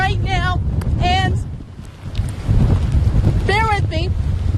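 Strong gusts of hurricane wind roar and buffet the microphone in loud, rough surges during storm coverage, with a voice speaking over parts of it.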